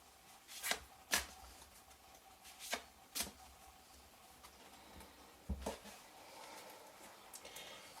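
An oracle card deck being shuffled and cut by hand: a handful of sharp, separate card snaps and riffles spaced irregularly over quiet room tone, close and fairly soft.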